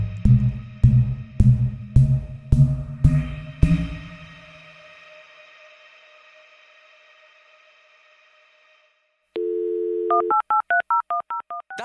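A dial-up modem connects with a run of six sharp, ringing strikes that decay into a lingering hum, then near-silence, then a steady tone and a quick string of stepped dialing beeps, all clear with no voices.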